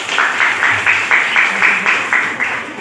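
An audience at a school digital-literacy session for seventh-grade students applauding in a steady rhythmic pattern, about nine evenly spaced bursts of close, loud clapping.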